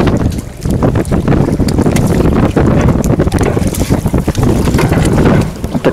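Autumn wind and waves on the Vileyka reservoir rock fishing pontoons, with loud continuous gusting wind buffeting the microphone over sloshing water and creaking knocks.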